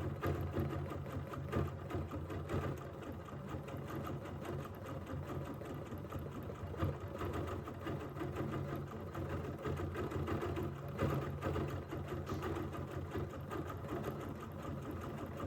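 A sewing machine runs steadily, stitching to couch decorative fibers onto fabric, with a continuous mechanical whir and rapid needle rhythm that stays close and even throughout, with no talking.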